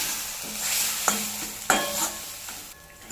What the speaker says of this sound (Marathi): त्याच्यात आता ही वाटून घेतलेली डाळ टाकायची, ही एकदम मिक्स करून घ्यायचं छान।